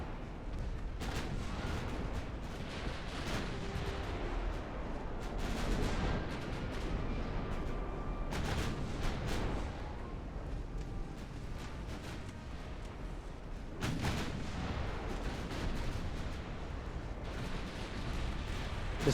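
Battleship guns firing in Ultimate Admiral: Dreadnoughts, a series of heavy booming salvos spaced a few seconds apart, each with a long rolling tail over constant background rumble.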